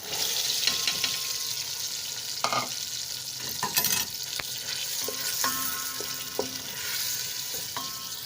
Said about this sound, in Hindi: अब हम चिकन को मीडियम फ्लेम पे 4 से 5 मिनट के लिए ना भूनेंगे।